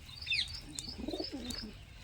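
High-flyer pigeons and their chicks in a gated home loft give soft, close cooing with a few thin chirps, and the calls rise and fall over about two seconds.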